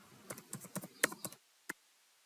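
Fingers type a CNIC number on a computer keyboard in a quick run of about ten close, crisp key clicks, then a pause and one last keystroke, with no voices.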